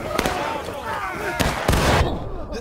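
Cannon fire in the Civil War game War of Rights, several sharp booming blasts with rumbling tails spread across a noisy battlefield, heard among ongoing voice chatter.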